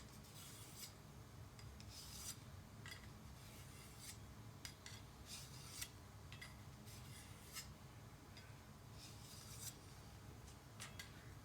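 A knife blade is drawn across a fine DMT diamond sharpening stone, producing faint, repeated rasping strokes in an irregular rhythm, close by with no talking.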